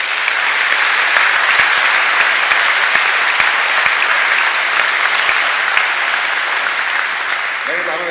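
A concert audience in a hall applauds a reservist military band, a dense, loud, continuous wash of clapping that holds steady for several seconds and then begins to thin out, with a voice coming in at the end.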